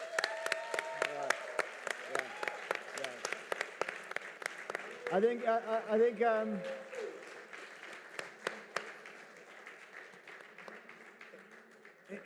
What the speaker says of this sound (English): I think a big standing round of applause for this man.